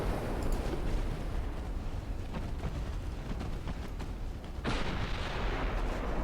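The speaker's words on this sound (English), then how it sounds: "Incoming torpedoes." Torpedo blasts in a naval video game boom heavily with deep, rolling low-end rumble, including a sharp fresh explosion late on, all fairly loud and without speech.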